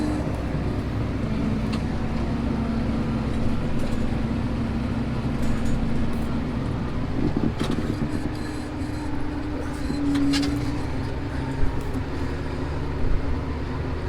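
A tractor working a ploughed field with the plough lifted at the headland, a steady low engine drone running throughout with a faint rattle of machinery and a few light clanks near the end.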